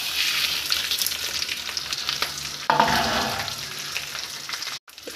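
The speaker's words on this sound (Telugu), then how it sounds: "బాగా కాగినాక ఇప్పుడు తాలింపు వేసేసుకోండి" Tempering spices of dal, green chillies, dried red chillies and asafoetida hit hot oil for mango rice, sizzling and frying steadily and loudly with stirring, then a burst of fresh hissing partway through.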